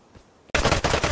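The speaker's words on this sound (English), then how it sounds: "There's somebody shooting at me." A sudden burst of rapid gunfire in the Vigor video game on Xbox One X cuts in after a quiet half-second and continues as loud, closely spaced shots to the end.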